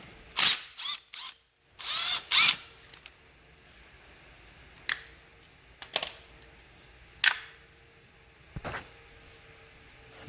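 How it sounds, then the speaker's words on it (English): A ratchet works loose a Torx 40 bolt on the drive belt idler pulley of a Volvo SI6 3.0T/3.2 engine, giving several sharp, close metallic clicking bursts separated by quiet gaps. "Now we got to remove the drive belt idler pulley. That's a Torx 40, I believe."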